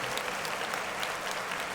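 Steady applause from a crowd fills the whole stretch, dense and even with no pauses and no voices over it.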